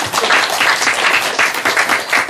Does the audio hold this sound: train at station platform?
no